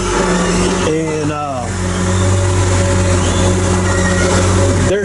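A Waratah timber processor runs with a loud steady mechanical drone and engine hum, pitch shifting briefly as it revs, with a person talking over it throughout.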